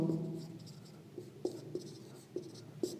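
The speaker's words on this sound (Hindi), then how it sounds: "गिवन डेटा मैं लिखता हूँ" Pen or pencil writing on paper while a physics problem's given data is noted down, producing a few faint, scattered scratches and taps over a quiet room.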